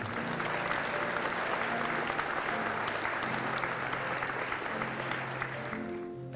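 A middle school Veterans Day assembly breaks into sustained applause for veterans and service members, a loud, dense roll of clapping from a large crowd that holds steady throughout, with faint tonal sounds beneath.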